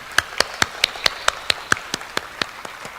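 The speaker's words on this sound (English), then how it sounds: "Let's give each other a big round of applause." Slow, widely spaced claps ring out one at a time at a graduation ceremony, about a dozen sharp hand claps in a steady rhythm, fairly close with no talking.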